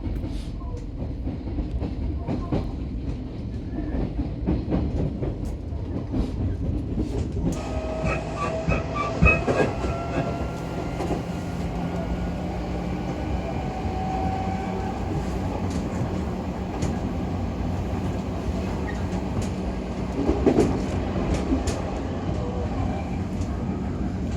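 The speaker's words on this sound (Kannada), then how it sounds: "ಟ್ರೈನ್ ಹೋಗಿ ಸ್ಟಾರ್ಟ್ ಆಗ್ತದೆ ಈಗ." A commuter train in Japan pulls away and runs steadily, its continuous rumbling rail noise with faint clatter and a brief rise in tone filling the cabin throughout, with no one speaking.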